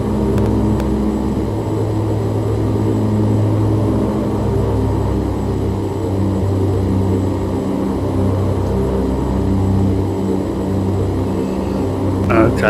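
OV10 Bronco twin-propeller aircraft in a VR flight game, a loud, steady engine and propeller drone that holds constant throughout, with someone talking faintly over it.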